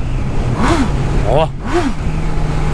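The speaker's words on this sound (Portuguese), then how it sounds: "Eu acho lindo reduzir a moto desse jeito." A motorcycle engine revs up and drops in pitch through a few quick downshift blips, loud and close, with a voice over the engine.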